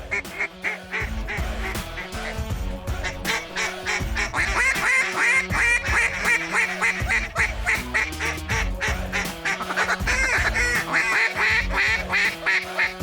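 Mallard ducks on fresh snow quack in a dense, loud, continuous chorus of rapid overlapping calls that rise and fall in intensity throughout.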